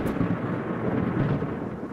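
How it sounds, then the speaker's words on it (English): Thunder from a big lightning bolt rolls as a low, steady rumble over a rainy outdoor fossil-hunting site. It is moderately loud and brief, with no voices. "that was a big bolt of lightning"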